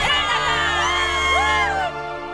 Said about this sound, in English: the track is lit up with flashbulbs and a buzz with cheers from the crowd